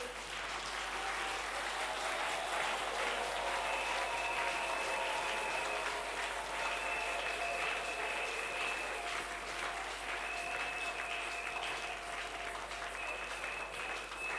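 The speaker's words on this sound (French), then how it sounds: "Nous allons applaudir le Seigneur." A church congregation applauds steadily for the whole stretch, a dense, sustained wash of many hands clapping at even loudness, with faint tonal hum beneath and no pauses.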